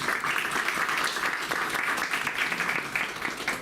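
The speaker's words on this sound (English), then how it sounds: "let's give her a nice round of applause" Steady applause from a school board meeting audience honoring a newly appointed public relations coordinator, a dense, sustained patter of many hands at moderate volume throughout.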